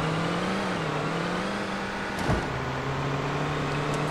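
Car driving in the video game Defiance, a steady engine drone holding a low even pitch with a slight dip and brief rattle midway, continuous and moderately loud.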